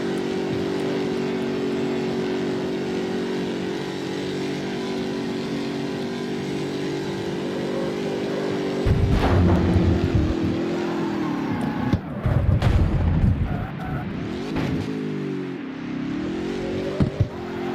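In the CarX Street racing game, a Subaru wagon fitted with a 1970s Dodge Charger engine and a 4-speed gearbox holds a steady, loud engine drone, then revs and surges in several rough bursts with a few sharp knocks.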